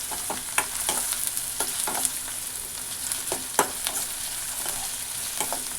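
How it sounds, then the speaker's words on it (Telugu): Puffed rice frying in a pan makes a continuous, close sizzle, broken by repeated sharp scrapes and taps of a stirring utensil at an irregular rhythm, with no talking. "కొద్దిసేపు వేయించుకున్నానండి."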